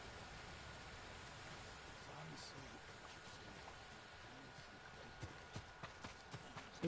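Horse hooves in the video game Ghost of Tsushima, a run of faint clip-clop steps near the end under low ambient game noise, with a voice talking softly over it.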